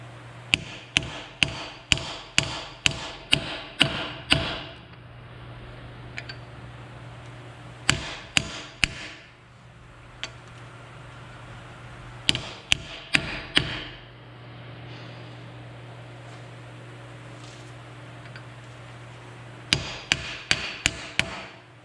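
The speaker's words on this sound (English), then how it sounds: "You just kind of gently drive it in." Sharp metal hammer blows drive an axle seal driver tool into the 8-inch differential of a 1966 Ford Mustang, coming in quick evenly spaced clusters of strikes with pauses between, loud and close over a low steady hum.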